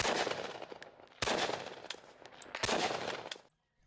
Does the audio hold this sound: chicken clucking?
no